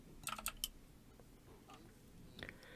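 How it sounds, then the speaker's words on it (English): Clicky computer keyboard typing during a hectic video game session, a quick burst of several sharp keystrokes up front and a few fainter taps near the end, close and fairly quiet. "Just trying to type something."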